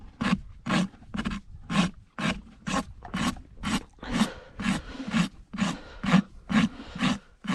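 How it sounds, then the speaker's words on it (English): A hoof rasp files the heels of a horse's hoof flat during a barefoot trim, producing steady, regular back-and-forth rasping strokes, close and loud, with about a dozen strokes in even rhythm and no talk. "Keeping the heels nice and flat. Keeping the rasp flat all the way on the side."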